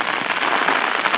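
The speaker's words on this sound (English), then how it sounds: "That rain has started." Steady rain drums on a tent on England's highest mountain, a dense, even patter of many drops close overhead with no pauses and no voices.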